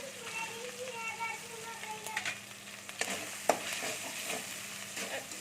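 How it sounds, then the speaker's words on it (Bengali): Green chillies and fried mustard paste frying in a pan with a light, continuous crackling sizzle, punctuated by a few sharp stirring clacks, fairly quiet and close, with no voices. "এটাকে একটু ভালো করে ভেজে নিচ্ছি আমি"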